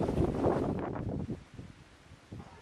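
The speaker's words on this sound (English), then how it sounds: "By 10 a.m., the winds had come up sharply" Strong storm wind gusting on Gambier Island, with a broad roaring rush that is loud at first and then eases into lower, uneven buffeting, with no voices present.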